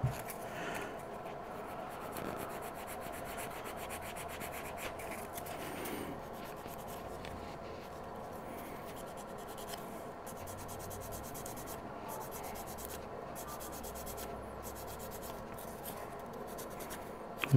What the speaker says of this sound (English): So I'm going to sand this way.